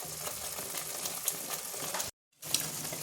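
Ground coriander, cumin and Kashmiri chilli powder fry in a pan for chicken curry, giving a steady close sizzle with small crackles and a brief pause near the end.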